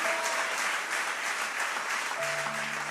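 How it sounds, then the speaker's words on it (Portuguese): A church congregation breaks into steady applause that fills the room from start to finish, with a few faint voices and sustained tones mixed in beneath the clapping. "Pode aplaudir o Senhor?"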